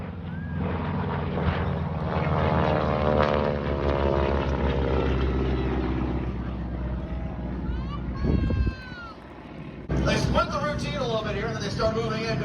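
A Yak and a Harvard propeller aircraft fly at an air show in Vanderhoof, British Columbia, their engines droning loud and near, rising and sweeping past, while an announcer talks over the public address.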